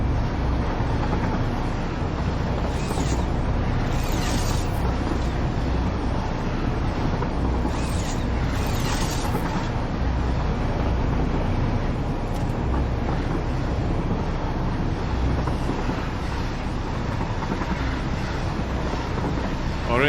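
A train rolls along in the Satisfactory video game, a steady loud rumble and rushing drone with wind-like noise that holds unchanged throughout, no talking.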